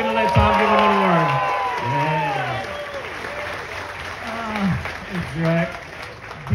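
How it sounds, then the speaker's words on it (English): Audience at a SevenStock car event applauds and cheers for a Mazda designer, steady clapping with whoops and shouting voices riding over it throughout. "give him another round of applause"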